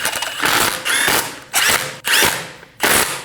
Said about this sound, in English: Snug down the lug studs.